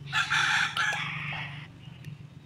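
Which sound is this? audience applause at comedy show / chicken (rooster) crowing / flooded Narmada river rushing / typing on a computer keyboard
chicken (rooster) crowing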